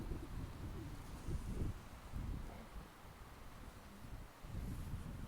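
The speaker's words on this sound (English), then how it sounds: "Very, very windy this morning." Strong morning wind gusts at a tarp and bivy camp on a Cheviot ridge walk, heard as an uneven low buffeting rumble against the microphone that swells and eases in repeated pulses, with no talking.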